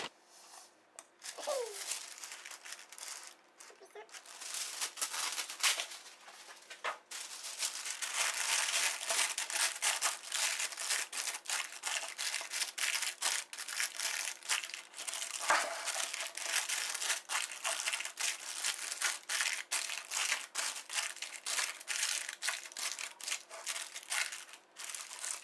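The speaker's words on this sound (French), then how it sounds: "je vais mettre le papier sulfurisé dans le moule" Parchment paper crinkling and rustling close up as it is pressed into a cake tin while a vegan olive cake is made, with steady, continuous crackling handling noise throughout.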